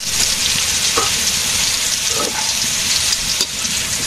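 Pointed gourd (potol) frying in a pan gives a steady, loud sizzle throughout, with a few faint clinks of stirring and no talk.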